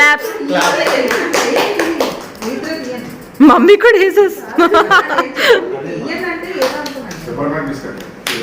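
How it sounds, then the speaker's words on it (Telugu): Family members clapping their hands in rhythm to pass the time while waiting on a trip to Tirupati, a run of quick close claps mixed with chatter, laughter and a voice talking over them. "అందుకే క్లాప్స్ కొడుతున్నాం మేము."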